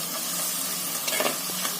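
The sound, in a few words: stirring and frying onions in a clay pot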